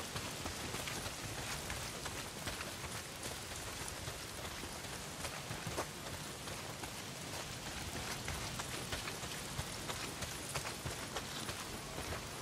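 Heavy rain pours steadily in the Days Gone video game, a dense continuous hiss of drops drumming on surfaces, loud and even throughout with no voices.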